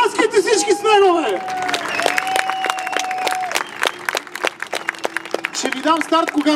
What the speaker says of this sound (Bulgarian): Ай, пляскайте всички с него,